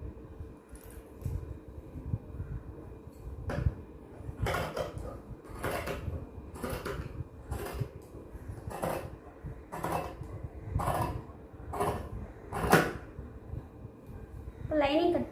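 Scissors cut through lining fabric for a child's silk skirt in a regular series of sharp snips, close and fairly loud, with soft handling sounds between cuts and a brief voice near the end.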